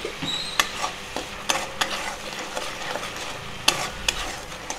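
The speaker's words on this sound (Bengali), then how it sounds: "মশলাটা কষানো হয়ে গেছে" Spiced masala paste with a little salt and sugar being stir-fried in a pan: steady close sizzling with a spatula scraping and knocking against the pan at irregular intervals, no voices.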